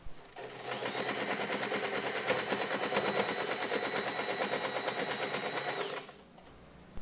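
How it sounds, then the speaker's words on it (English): A sewing machine stitches satin fabric for a bow in one steady, rapid, rattling run lasting about five seconds, close and even, starting abruptly and stopping cleanly, with no voices. "sew this part using either a straight stitch or a zigzag stitch"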